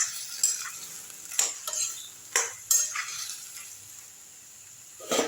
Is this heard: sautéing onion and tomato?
yes